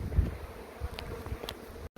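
Honey bees buzzing around rough, irregular comb as a hive is relocated, a steady low insect hum with faint rustling and brief higher flickers, fairly close and with no talking over it.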